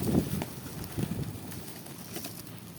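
Pigeons gathered in a flock after days of rain give soft, low coos in a few short bursts, fairly faint and close by against quiet background noise.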